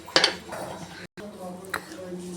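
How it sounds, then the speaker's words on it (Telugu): A pressure cooker holding toor dal and water is closed with its lid and weight, giving a few metallic clinks and clatters, mostly in one sharp burst and then a softer knock, while someone talks. "కుక్కర్ పెట్టేసుకోవాలి. ఇట్లా మూత వెయిట్ తోటి."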